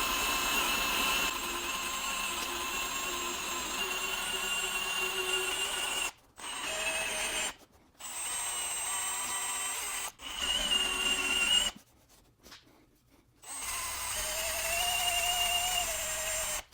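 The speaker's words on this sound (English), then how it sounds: "let's get this double-side tape cleaned off with an eraser wheel" An eraser wheel grinds double-sided tape off the body of an abandoned BMW M3, a steady whirring drone that cuts out briefly several times before resuming, close and fairly loud with no talk.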